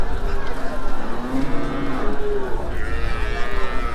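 An agitated Sahiwal bull moos loudly and drawn-out at Hazratpur cattle market, over a dense, noisy outdoor background, the low calls rising and falling near the middle.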